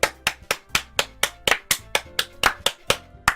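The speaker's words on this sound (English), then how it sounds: "Natsuki finishes, and everyone applauds." Clapping in the Doki Doki Literature Club visual novel, heard as a string of about fifteen sharp, evenly spaced claps, close and loud, sounding like a single pair of hands rather than a crowd.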